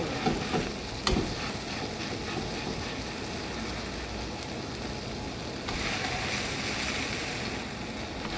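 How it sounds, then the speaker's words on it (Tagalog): A patty sizzles and crackles steadily in a hot pan, close up, with a few sharp pops early and the frying growing louder later. "Ang ating burger, na-prito na siya."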